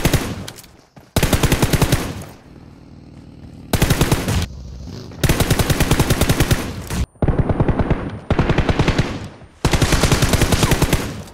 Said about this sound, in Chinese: 听着枪声，此刻正在与他人交火